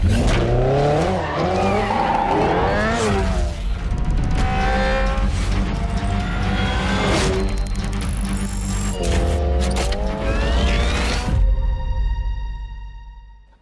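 Hyundai IONIQ 5 N electric performance car drifting on a race track: loud, continuous tire squeal with rising and falling engine-like tones throughout, fading out at the end.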